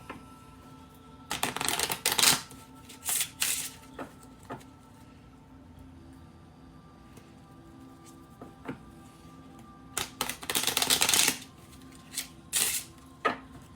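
Lenormand cards are shuffled in several quick riffling bursts, crisp and close, separated by quiet pauses with faint room noise.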